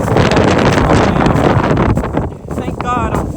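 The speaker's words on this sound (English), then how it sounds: "y'all can pretty much hear the wind. This wind is very tough." Strong, gusting wind buffets the microphone on a roadside after a jackknife accident on black ice, a loud continuous roar that dips briefly before surging again.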